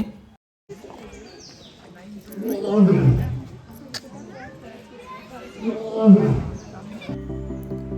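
A lion at Bannerghatta Biological Park in Bengaluru lets out two deep, rumbling roars a few seconds apart, with people talking throughout.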